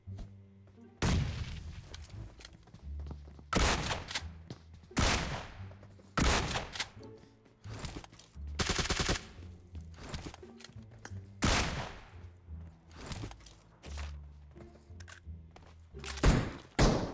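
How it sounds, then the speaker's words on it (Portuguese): Repeated bursts of gunfire from a bot in a shooter video game, loud volleys and single shots spread across the stretch with brief gaps between. "Olha o bot atirando nele."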